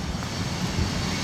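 Helicopters flying over a wildfire near North Bend, British Columbia, heard as a steady, broad engine and rotor roar that stays loud and unbroken throughout, with no voices.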